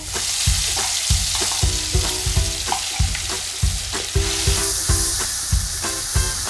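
Snails cooking in a hot pan, a loud continuous sizzle broken by repeated scraping strokes of a spatula stirring at a steady rhythm, close up, with no talking.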